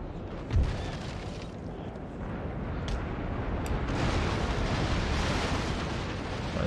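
Broadside of ship cannons in Napoleon: Total War, a dense continuous rumble of booming fire with one sharp blast near the start, sustained and loud throughout.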